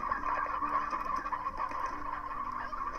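Roosters in the Slime Rancher video game cluck softly in repeated short, rhythmic bursts over a steady game ambience, fairly quiet with no talking.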